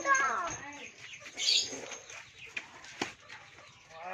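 A bantam hen, a broody sitter, clucking softly nearby among other faint farmyard sounds, with a brief voice and a couple of small knocks.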